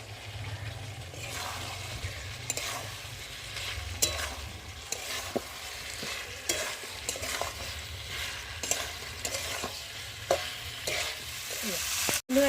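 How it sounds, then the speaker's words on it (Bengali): Cauliflower and potatoes sauté in a pan for a Bengali cauliflower curry, with a steady sizzle and repeated scraping stirs across the whole stretch and a sharper clatter right at the end; nobody speaks. "এখন ভেজে রাখো কপিগুলো দিয়ে ভালো করে কষিয়ে নেব"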